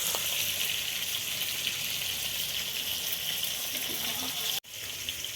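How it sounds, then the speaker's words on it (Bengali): Water running steadily over prawns being strained for a Bengali prawn malai curry, a constant close rushing gush that cuts off abruptly near the end, with no talk. "এটা জল দিয়ে আমি এটাকে ছেঁকে নিচ্ছি"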